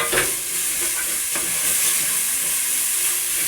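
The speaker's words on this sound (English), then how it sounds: "keep stirring it until your onion's brown" Onions frying and being stirred in a pan for a slow-cooked beef and vegetable stew: a steady close sizzle with scraping spoon strokes against the pan, and no voices.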